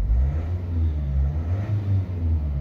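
A Vauxhall Vivaro or Renault Trafic van engine with a mass airflow sensor fault rumbles close by and is revved repeatedly, its low drone swelling and easing in a few uneven pulses.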